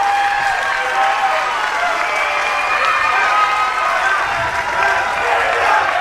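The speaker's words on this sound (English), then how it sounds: "This crowd in Roseland are on their feet for Amira" A wrestling crowd in the Roseland venue on its feet, a dense, steady roar of cheering and applause sustained throughout, with a commentator's voice mixed in.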